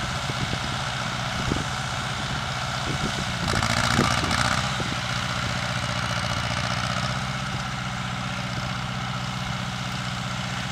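An International 240 tractor engine mowing a lawn chugs at a steady low idle-like drone, bogging down with a louder labored surge midway, moderately near.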